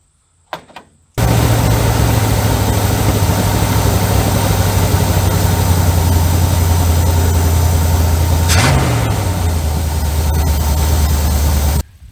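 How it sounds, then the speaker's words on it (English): A 1972 Chevrolet C30 truck engine idling, a loud steady low drone that starts abruptly and runs evenly for about ten seconds, with a brief pitch shift midway before cutting off. "It was idled way too high when the choke is on"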